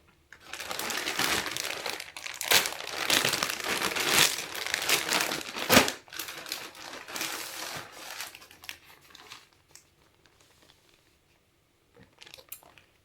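A parcel package being torn open and unwrapped, with loud crinkling and crumpling of plastic or paper wrapping across several seconds, then fading to quiet with a few faint rustles near the end.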